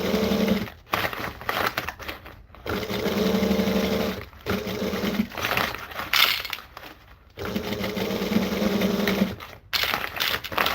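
A sewing machine stitches a Minx drink bottle at a 2.5 stitch length, running in steady rapid bursts separated by brief pauses, close and clear with no talking.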